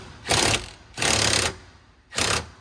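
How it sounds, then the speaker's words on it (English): Four bolts come out of the rear seat of a 2021 Ford Bronco in three loud, evenly spaced bursts of power-tool buzzing, each lasting about half a second, close up with no talking. "We're now removing 4 bolts here."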